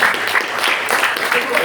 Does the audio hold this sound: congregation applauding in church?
yes